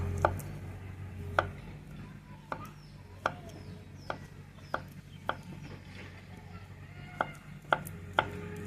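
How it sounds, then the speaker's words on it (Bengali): Knife blade striking a cutting board as a banana is cut into small pieces, about ten sharp separate chops at uneven intervals over a low background hum. "কলাটা এবার মাঝখান কেটে নেব এখন ছোট ছোট করে কেটে নেব"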